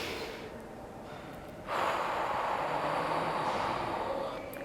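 Calming breath demonstrated by a person, with a strong inhale at the start followed by a long, steady, breathy exhale that runs on for several seconds, close and fairly quiet, with no talking.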